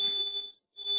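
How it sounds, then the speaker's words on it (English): A loud indoor room alarm sounds a steady high electronic tone, cutting out briefly and then resuming, with no talking. "I apologize again for that alarm, Andrew's working to get it turned off."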